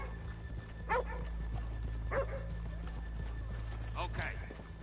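Horse hooves clop a few times in Red Dead Redemption 2, spaced-out single strikes over a low steady hum.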